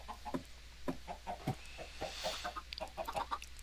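Chickens on a chicken farm in Minecraft give a steady run of short, soft clucks at an even rhythm, fairly quiet and close, with no talking.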